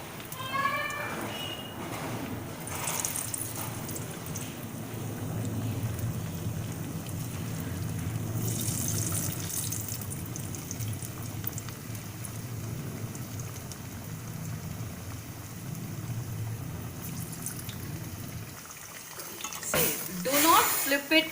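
Dal vada (paruppu vadai) patties slide into hot oil and fry with a steady, close crackling sizzle that holds throughout, with a few brief clinks of utensils near the end.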